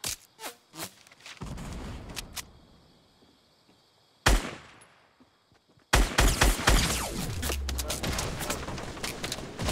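Shotgun-heavy video game gunfire, a few sharp isolated shots followed by dense overlapping volleys, loud and close, with players talking over the fight.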